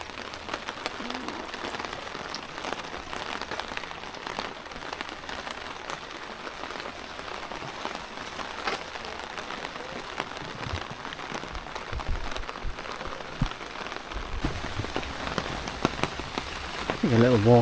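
Steady rain patters on a hard surface throughout on Miyajima island, Japan, dense and close, with occasional louder drops and a faint voice briefly underneath.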